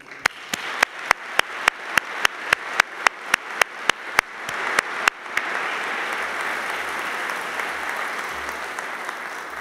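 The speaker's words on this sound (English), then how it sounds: "Please join me for an applause." A string of slow, isolated, evenly spaced claps opens the passage before the crowd breaks into full, steady applause at a rector's welcome address, continuing loud and dense to the end.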